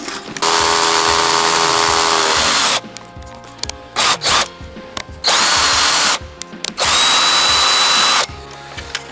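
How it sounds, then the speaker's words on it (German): A power drill bores a small hole while a Chinese parking heater is being installed, running in three loud, steady high-pitched bursts with short clattering pauses between, very close, no talk. "Wir werden ungefähr daneben ein Loch reinmachen. Lieber ein kleineres Loch als größeres."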